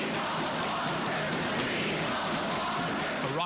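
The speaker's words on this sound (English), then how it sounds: "Raucous crowd inside the Wisconsin State Capitol for days" A raucous protest crowd fills the Wisconsin State Capitol rotunda during the Act 10 demonstrations. The roar of chanting and shouting is dense and echoing, loud and continuous throughout, with no single voice standing out.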